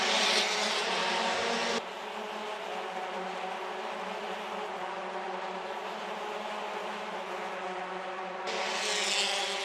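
Race cars sweep through the final complex of turns 9, 10 and 11 at a Toronto street race, a continuous engine drone heard from a distance that swells louder at the start and end, with no talk.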